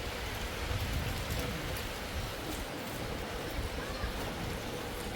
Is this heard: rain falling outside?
yes